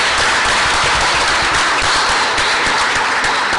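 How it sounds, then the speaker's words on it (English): Loud, dense applause from a festival audience at the Lahore literary festival, steady and sustained throughout without letup. "a big clap for the Lahore Festival"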